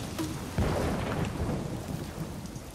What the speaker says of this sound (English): So we're just gonna let it rain a little bit here so you guys can check it all out.